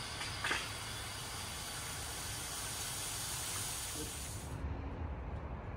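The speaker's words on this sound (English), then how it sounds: "just hooking up the air compressor and letting it drain out the other end of the line up there" An air compressor blows water out through a soft wash hose on a pressure washing trailer, a steady close hiss with a low rumble that cuts off near the end.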